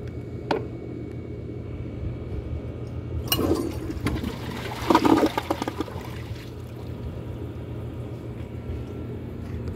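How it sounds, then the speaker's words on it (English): A new-old-stock 2013 Kohler Adair one-piece toilet flushes with a fairly weak rush and gurgle of water over a steady background hum, and the swirl fades after a few seconds. "The flush resembles pretty much every other class 5. Not very impressive, a little bit weaker because it's a one piece"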